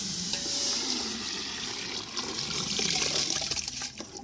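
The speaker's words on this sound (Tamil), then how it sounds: "தண்ணி கொண்டு நான் ஊற்றுறேன்" Water splashes and pours into a pot of nombu kanji (rice porridge) close by, a continuous gurgling wash with small clinks.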